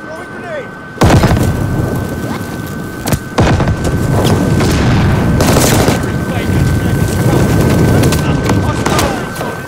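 Sustained gunfire and booming explosions from Call of Duty Vanguard multiplayer, with dense rapid shots and heavy blasts starting abruptly and continuing loud throughout, with a player's voice talking over the battle.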